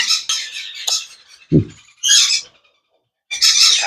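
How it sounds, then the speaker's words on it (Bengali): A red-capped lory at a bird market gives several harsh, loud squawking bursts close by, separated by short gaps and one low, muffled thump, with no talking. "দেখেন রেড ক্যাপ লরি"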